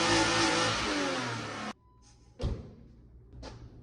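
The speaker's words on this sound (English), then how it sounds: "do a little brap, brap, brap" BMW E36 M3 sedan engine revving loudly and steadily for nearly two seconds, then cutting off, followed by a thud and two short, sharper blips of the throttle, close by with no talking.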